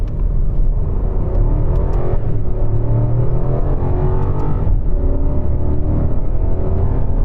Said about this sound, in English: Accelerating through first.